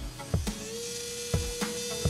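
A Melody Susie MB450E nail drill runs at very low speed, a faint, steady motor hum with a thin whine, broken by a few soft clicks and knocks, close up and nearly silent.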